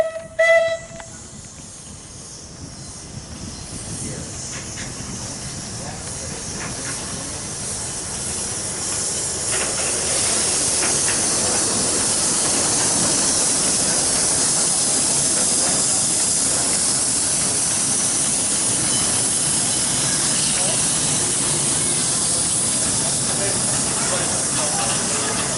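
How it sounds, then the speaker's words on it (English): A steam engine train approaches with a steadily building broad hiss of steam that swells over several seconds and then holds loud and constant, with faint background chatter early on. "here comes the steam engine."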